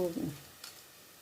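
Onions frying in a pan give a brief, faint sizzle with a soft stir, quiet and close.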